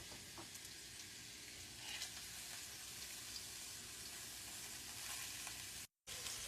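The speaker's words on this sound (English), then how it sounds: "we'll go ahead and get us a good sear on our red snapper before we put it in the oven" Red snapper sears in butter in a hot pan, giving a steady, dense sizzle and crackle that holds for several seconds with only a brief cut near the end.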